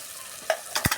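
Chili and coriander powder sauté in a pan for fish curry, with a soft sizzle and two or three quick stirring scrapes close by in a brief moment, no voices.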